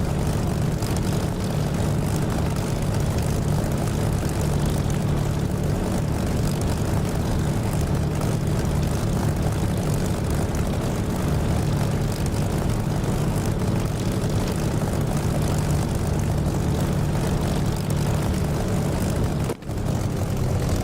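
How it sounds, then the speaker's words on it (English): Aircraft engine in the DCS flight simulator powering up for a takeoff run from a taxiway, a steady, loud droning roar that holds through the whole stretch with no talk. "I'm going to take off on the taxiway."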